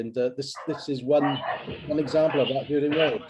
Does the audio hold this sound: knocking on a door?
no